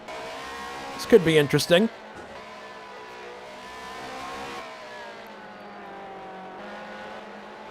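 BMW race cars dueling in a sim racing game at the 1997 AMP Bathurst 1000, their engines droning steadily throughout while a commentator talks over them.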